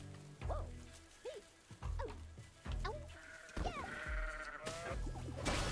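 Sheep in a video game bleat several times in quick succession, each call a short wavering baa, close and fairly loud with brief pauses between them.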